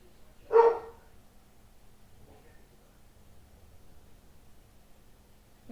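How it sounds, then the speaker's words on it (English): A dog gives a single short bark, fairly distant, early on, followed by quiet room tone with faint rustling. "Something made the dog bark."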